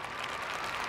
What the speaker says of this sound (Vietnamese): Chúng ta chọn tràng pháo tay thật lớn.